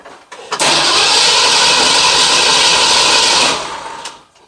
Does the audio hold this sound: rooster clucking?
no